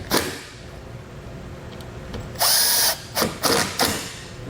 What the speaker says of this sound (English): We can then reinstall our bolts.